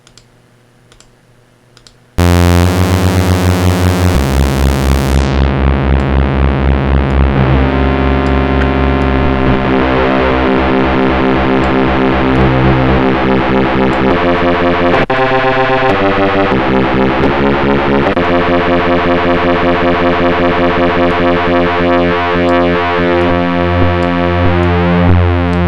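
Synthesizer Reese bass built from two detuned saw waves, a thick, buzzing sustained tone that enters after a brief quiet start and drones loudly with shifting notes and phasing for over twenty seconds, no talking.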